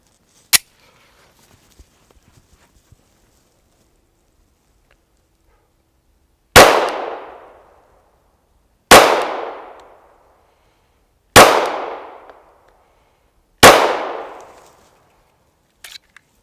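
A Glock 43 single-stack pistol fires at a range: one sharp shot, a long quiet gap, then four loud evenly spaced shots, each with a trailing echo, and a faint clatter at the end.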